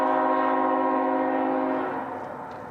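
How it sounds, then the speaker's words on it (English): A CSX freight train led by a GE Tier 4 GEVO locomotive sounds a loud sustained horn chord up close, which cuts off near the end and leaves a fading rumble. "the 457 appearing first, curiously led by a Tier 4 Gevo with only the headlight to guide their path"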